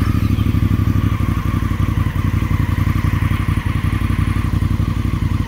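Motorcycle engine running steadily at close range after starting, a loud, even, throbbing idle with a rapid regular pulse and slight mechanical clatter, alone without talk.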